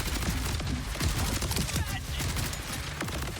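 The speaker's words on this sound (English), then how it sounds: "Now I'm going to use the weapon here in the gameplay to show you guys how good this assault rifle is" Rapid automatic fire from a corrosive assault rifle in the shooter game Borderlands 4, a dense, continuous rattle of shots running without pause through the whole stretch, loud and close.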